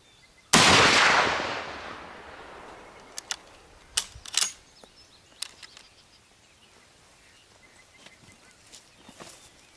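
A single loud gunshot cracks at an outdoor shooting range and decays into a long fading tail, followed by several small sharp clicks and taps.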